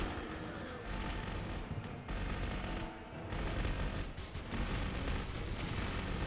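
Dense, continuous gunfire in Clive Barker's Jericho, a loud rapid burst of shots with brief dips, sustained for several seconds with no talking.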